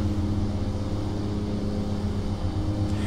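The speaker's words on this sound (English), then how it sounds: "this plane cruises at about 150 knots" An Aerosoft Twin Otter in Prepar3D drones steadily in climbing flight, a loud, continuous turboprop engine roar with a throbbing low hum and no variation, heard alone.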